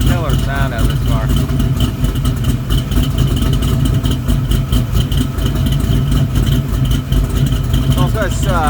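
A 1970 Camaro Z28 with a stroked, fuel-injected LS3 V8 and pipes exhaust idles nearby with a loud, steady, deep rumble, while a voice talks briefly over it at the start and end.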